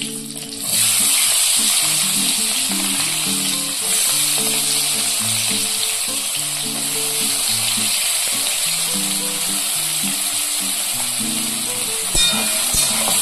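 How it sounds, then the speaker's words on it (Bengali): Green chilli and chopped onion fry in oil for a Bengali tarka, giving a loud, steady sizzle that runs the whole length with soft music beneath it. "প্রথমেই আমি এতে দিয়ে দেবো একটা কাঁচা লঙ্কা, আর আমি দেবো পেঁয়াজ কুচি।"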